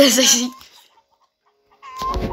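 A video-game hen clucks in a short, rapid burst, falls quiet for over a second, then clucks again more faintly with a soft rustle.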